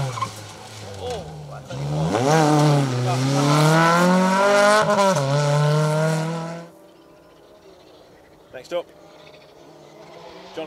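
Volkswagen Polo R5 GTI rally car at the Manx Rally racing past at speed, a loud rising and falling engine note with tire noise sweeping close by, then fading to quiet with faint distant sounds afterward.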